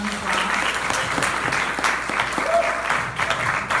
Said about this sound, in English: Let's give Melissa and Liz another round of applause.